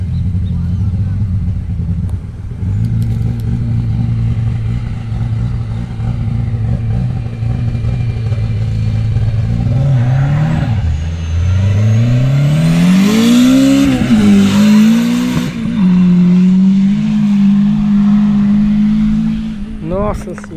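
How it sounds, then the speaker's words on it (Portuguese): A prepared drag racing car accelerates down the strip during a practice session in Roraima. The engine drones loudly and steadily, then climbs in pitch through the gear changes as the car pulls away, with no talk over it. "Puxada aí do carro preparado pelo Porquinho"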